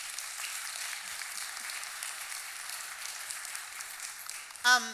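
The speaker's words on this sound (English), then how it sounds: "A big round of applause." Audience at a congregation panel discussion applauding, a sustained wash of many hands clapping at moderate distance, steady throughout, with a brief voice at the very end.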